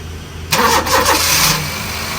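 A Honda car engine with a weak battery and misfiring, flashing check-engine light cranks briefly and catches, roaring up loudly before settling into a steady idle; no talking.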